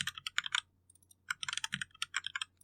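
Fingers typing on a computer keyboard, nearby and clear: two quick bursts of rapid key clicks separated by a short pause.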